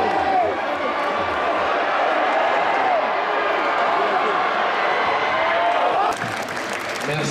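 Loud crowd applause and cheering in a busy, echoing hall, sustained for several seconds with voices in the mix, then dropping off sharply near the end.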